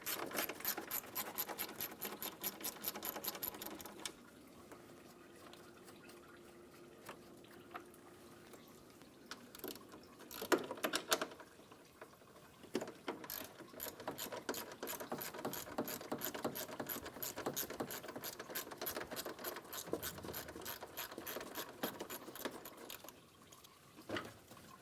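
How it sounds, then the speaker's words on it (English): Ratchet removing 10mm fan shroud bolts on a 2003-2007 Infiniti G35, quick rapid clicking runs close to the mic, quiet and repeated, with brief pauses and soft metallic handling noises between them. "Remove the 10mm bolts for the fan shroud."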